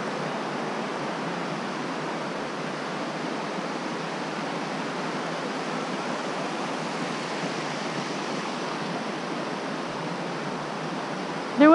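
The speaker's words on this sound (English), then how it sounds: "That water's flowing too hard." Creek water surges hard and steady on a rainy hike at Sope Creek in Georgia, a dense, continuous rushing roar that stays loud and even throughout with no voices over it.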